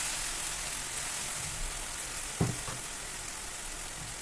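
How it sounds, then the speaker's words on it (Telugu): Masala frying in a pan for mushroom curry, a soft, even sizzle heard close, with one brief stirring clatter partway through. "ఇప్పుడు ఇది పచ్చివాసన పోయే వరకు చక్కగా ఫ్రై చేసుకోవాలండి."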